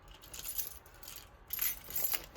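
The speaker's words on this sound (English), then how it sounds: "My home keys," House keys jangle faintly and close by in short bursts as they are lifted from a bag, with light metallic clinks and no talk.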